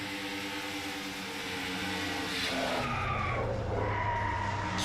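Race cars spinning and skidding down the front stretch in a sim racing video game crash at an Auto Club 400 event, a continuous engine drone and tire scrub that swells louder in the second half, with no talk.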